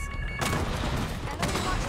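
A burst of rapid gunfire rattles out at a helicopter in Call of Duty Black Ops 6, dense and loud for under two seconds, with a couple of sharper blasts standing out.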